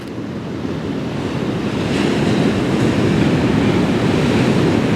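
Sea waves wash continuously onto the rocky shore at Brother's Point on the Isle of Skye, a loud, steady surf roar with wind buffeting the microphone and no voices.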